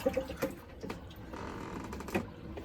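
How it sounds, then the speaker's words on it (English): Water drains and trickles from a bowl of fruit soaked in vinegar water, with scattered clinks and splashes, a soft continuous pour in the middle, and faint drips. "now my fruit has been soaking for a good while, so we're just going to drain out the water"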